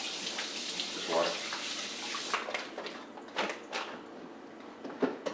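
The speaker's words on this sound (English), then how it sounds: "Just a quick rinse, it doesn't have to be anything." Tap water runs over a cutting board for a quick rinse, a steady hiss of flowing water at first, then fading into scattered splashes and light knocks, faint and close, with no talking.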